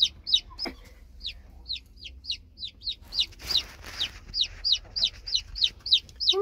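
A chick peeps insistently among chickens, a long run of shrill, evenly spaced cheeps that stays loud and close, with a burst of rustling and clucking partway through.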